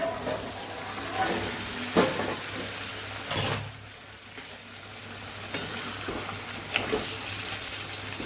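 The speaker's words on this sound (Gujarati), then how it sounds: "પાંચ મિનિટથી આપણી ચિપ્સ પાકે છે" Potato chips sizzle steadily in a hot pan, broken by occasional louder scrapes and clatters of stirring.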